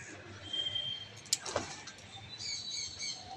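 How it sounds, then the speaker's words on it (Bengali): Faint, scattered bird calls come from parakeets nesting in a coconut tree, with a few brief chirps and a sharper call standing out over quiet outdoor background. "ওইটা টিয়া পাখি আওয়াজ করছে।"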